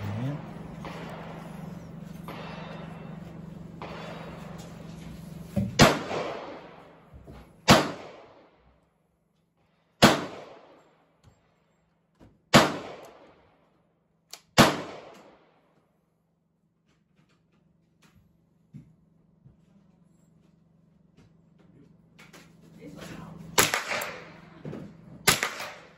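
Ruger 10/22 small-caliber rifle shots at a shooting range: five sharp, evenly spaced cracks ring out one at a time over a low hum, with a few more shots and bursts of talk near the end.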